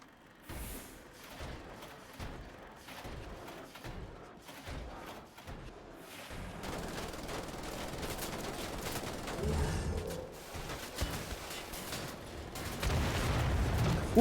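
Gunfire in Wolfenstein: The Old Blood, starting with scattered single shots that build into denser, rapid automatic bursts and thudding impacts, growing louder and busier toward the end.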